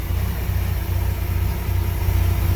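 A 1992 Sea Ray Sundancer 230 boat engine idles with a loud, steady low rumble and an even throbbing pulse, close by and uninterrupted, with no talk.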